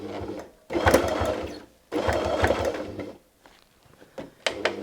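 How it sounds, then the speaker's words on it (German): A domestic sewing machine quilting fabric on a zigzag stitch, running in two loud, close bursts of rapid rhythmic stitching separated by short pauses, then a few quiet clicks and a brief final run. "senken sie auf Zickzack eingestellt ab und quilten ein Stück weiter"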